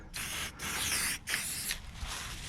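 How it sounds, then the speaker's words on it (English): Cleaner sprayed onto the gloss black frame of a KTM 500 motorcycle in close, hissing aerosol bursts: three long sprays separated by brief pauses, nearby and alone. "If you spray that, it brings that new gloss black back into what you're spraying."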